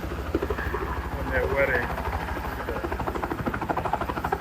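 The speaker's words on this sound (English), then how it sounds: "You got a helicopter just landed." Helicopter landing near a temple in Bali, its rotor thumping in a steady rapid pulse close by, loud and continuous beneath people talking.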